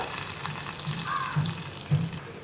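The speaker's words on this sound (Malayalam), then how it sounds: "ആ വെളിച്ചെണ്ണയും ഒഴിച്ചു കൊടുക്കുക." Coconut oil tempering is poured into a pressure cooker egg curry, giving a steady, close liquid splashing that runs the whole time with no voices.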